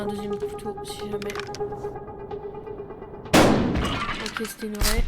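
A live shotgun shell fired in Buckshot Roulette goes off with a single loud, sharp blast partway through, following quieter game sounds and clicks, with a second burst near the end.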